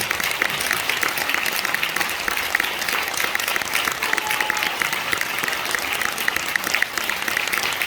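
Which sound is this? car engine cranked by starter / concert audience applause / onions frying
concert audience applause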